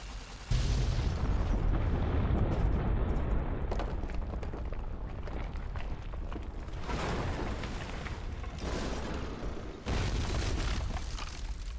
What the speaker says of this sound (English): This nuke always scares me, because you have to be really close to detonate it.